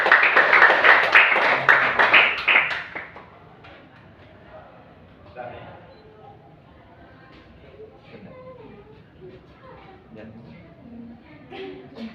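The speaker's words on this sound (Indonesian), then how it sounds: "Tepuk tangan semuanya." Children in a classroom break into a dense burst of clapping that lasts about three seconds and then stops abruptly, followed by quieter talking and rustling.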